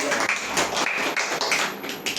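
A small group claps hands together in a few quick bursts of sharp, close slaps at a Gita reading gathering.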